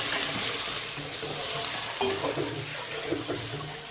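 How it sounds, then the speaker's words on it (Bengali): Fried koi fish being sautéed in a pan, a steady close sizzle with scattered spatula scrapes and light clatter running throughout, no voices. "ভেজে রাখা কই মাছগুলো এবার আমি একটু কষাই নেব"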